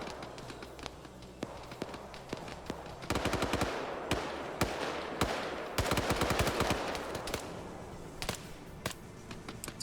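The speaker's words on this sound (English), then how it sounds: "Now they're engaging, but we're hearing some loud gunshots here." Gunfire in the Arma 3 military shooter: sparse sharp shots at first, then dense bursts of automatic fire and single cracks at varied distances, some close and loud, others more distant, continuing throughout.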